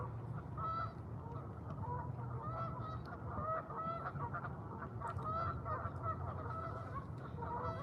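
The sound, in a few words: Canada geese honking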